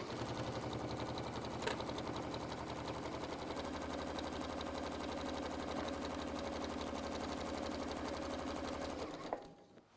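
A sewing machine stitches fabric in one fast, even mechanical run, a close and steady rapid chatter that stops abruptly near the end.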